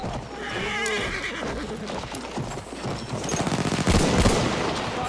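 A horse whinnies loudly then snorts amid hoofbeats in Battlefield 1's Sinai Desert conquest map, with bursts of rapid gunfire building toward the end; no speech.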